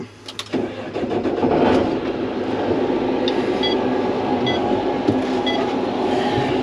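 Combine harvester engine starting up in a wheat paddock during harvest, a few clicks and clunks, then the diesel catching and settling into a loud, steady rumbling idle heard from inside the cab.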